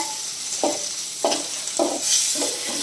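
Tomatoes and green chilies stirred in a pan, with a steady sizzle and four evenly spaced scrapes of a spoon against the pan.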